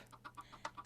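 Baby chickens in the Minecraft video game cluck in short, separate bursts of about half a dozen quick notes, fairly faint and close together, with no talking over them.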